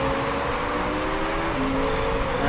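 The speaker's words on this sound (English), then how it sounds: "We're still going to have lots of rain" Heavy rain pours onto a soaked race track in the racing management game Motorsport Manager, a dense, continuous hiss of falling water that stays loud and even throughout with no voices.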